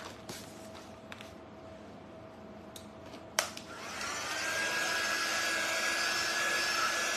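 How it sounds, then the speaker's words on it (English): A few clicks and a sharp snap, then a dryer switches on and blows steadily and loudly, drying a craft piece up close with a thin whine over its rushing airflow. "So we're just gonna hit this with the dryer real quick"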